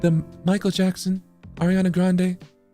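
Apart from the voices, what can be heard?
None of the usual background noises is heard.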